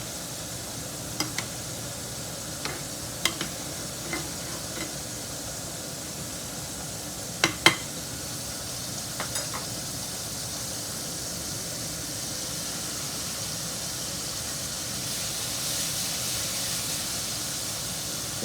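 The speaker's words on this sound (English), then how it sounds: "My tomatoes and okra are cooking away back there." Tomatoes and okra simmering in a pan on a home stove give a steady, soft sizzling hiss throughout, with a few sharp clicks and light utensil taps early on.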